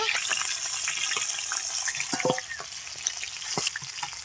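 Fish fries in hot oil, a dense, loud, continuous sizzle heard close up with occasional pops and clatter, and no one speaking.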